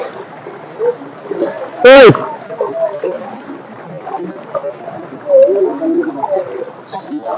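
Flood water from a breached embankment along the Barak river splashes around a rowing boat in one loud splash and a few smaller slops, amid voices talking nearby.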